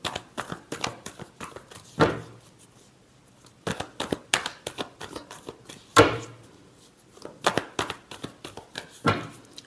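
Tarot cards being shuffled by hand in bursts of crisp riffling and slapping taps, close and fairly quiet, with short pauses between rounds.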